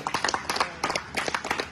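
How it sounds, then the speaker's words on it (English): Audience clapping for a guest at a welding education event, with a handful of sharp, uneven claps spread across the short stretch and no talk over them. "Clap for him."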